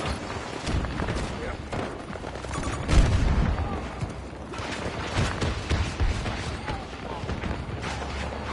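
Grenade blast and gunfire in Battlefield 2042, a dense, continuous rumble of shots and booms with a heavier thud near the middle, under shouted voices.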